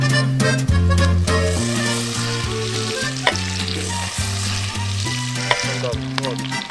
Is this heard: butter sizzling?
yes